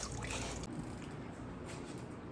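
Coolant drains from the radiator of an Acura RSX Type S in a steady, rushing trickle that stays loud and continuous for the whole short stretch.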